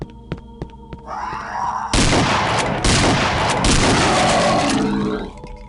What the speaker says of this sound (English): A shotgun.